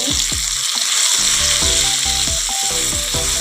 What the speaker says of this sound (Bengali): বন্ধুরা ঠিক আছে একটু ভালো করে ভেজে নেব